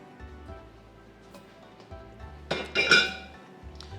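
Drained pasta goes back into a casserole pot in a home kitchen, with clinks and scrapes of metal and utensils building to a short cluster of louder clatter.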